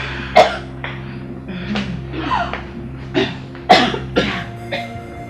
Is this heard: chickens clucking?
no